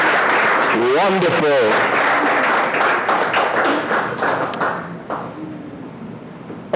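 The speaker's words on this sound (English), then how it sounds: "Another nice round of applause, please." Audience clapping, a broad crackle of many hands that gradually thins out, with a voice speaking over it.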